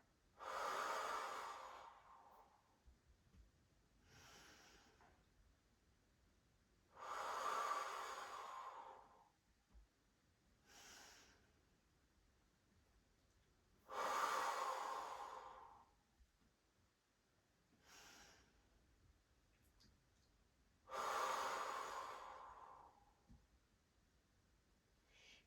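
Slow, deep breaths during a pelvic floor exercise, with long airy inhales and exhales repeating in a steady rhythm, close and fairly loud, separated by quiet gaps and no talking.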